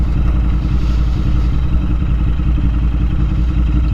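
Loud, steady rumble of a Royal Enfield Interceptor 650 parallel-twin motorcycle engine under heavy throttle, close and continuous with a dense low drone and clattering texture, no voices.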